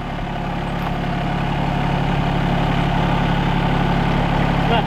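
A tractor engine idles loudly and evenly, a steady low rumble with a constant mechanical hum that never changes pace.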